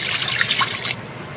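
A cup of water is poured into a pot holding a stick of unsalted butter, a close, bright splashing gush that trails off into trickles, with no talk.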